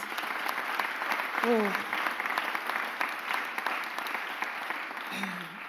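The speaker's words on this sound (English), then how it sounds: "So give that a huge round of applause, please." An audience at a mayor's press conference claps in steady, sustained applause, dense and fairly close, with brief voices rising above it.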